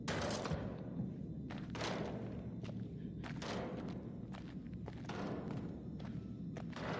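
Repeated banging from a hatch in Until Dawn, dull thuds recurring irregularly at moderate distance over a steady ambient hum.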